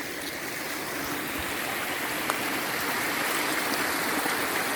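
A stream rushes steadily over rocks toward a river in a valley on a countryside hike, a dense, continuous close-up gush of water with no talking.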